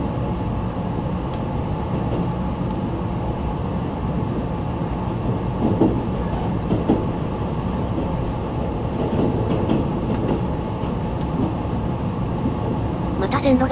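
A JNR-liveried limited express train runs along the Musashino Line, heard from on board as a steady, loud rumble with faint rail clicks and rattles throughout.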